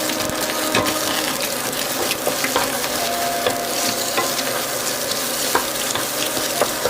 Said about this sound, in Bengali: তারপরে ভালোভাবে ডিমটাকে ভেজে নেব।